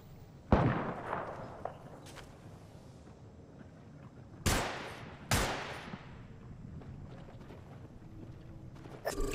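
Sharp gunfire bursts in the video game Apex Legends: a loud shot near the start, scattered smaller cracks, then two strong reports close together midway and a few more toward the end, with no speech.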